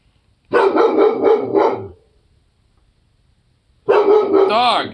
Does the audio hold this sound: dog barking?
yes